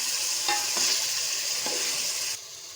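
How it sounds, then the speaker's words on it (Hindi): Chopped ridge gourd (turai) stir-fried in a pan, a steady loud sizzle with a few soft scraping stirs, fading slightly near the end; no voices. "अब हम इसके अंदर कटी हुई सब्ज़ी ऐड करेंगे। साथ ही इसकी हम भुनाई करते हैं 3 से 4 मिनट के लिए।"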